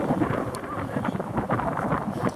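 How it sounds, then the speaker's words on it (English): Gusty wind buffets the microphone in a dense continuous rumble on a breezy outing in Japan, loud and close with no clear break. "It's breezy."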